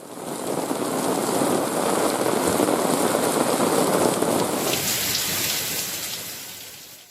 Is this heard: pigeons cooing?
no